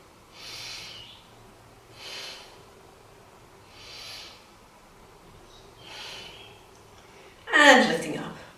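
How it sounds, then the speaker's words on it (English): Slow, deep yoga breaths into the belly repeat about every one and a half to two seconds, soft airy inhales and exhales close to the microphone, ending in a louder, sharper exhale. "Breathe into the belly and pick that head position that best suits your neck. 3 big breaths into the belly."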